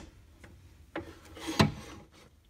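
A threading die in a die holder is turned by hand on a pen section for a redwood burl fountain pen, giving a few short close scraping rasps with quiet pauses between.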